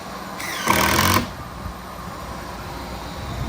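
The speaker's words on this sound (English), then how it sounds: "You just put screws in." A power drill drives the final screws into a birch plywood mini ramp, making a short, close, loud whirring burst that lasts under a second before falling quiet.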